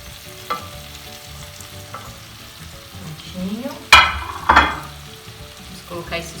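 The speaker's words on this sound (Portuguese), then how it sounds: "E a manteiga praticamente derretida, nós vamos acrescentar o shimeji. Vamos colocar na panela toda." Low, steady sizzling of shimeji mushrooms frying in melted butter in a pan, with a couple of louder crackling bursts as they drop in and are stirred.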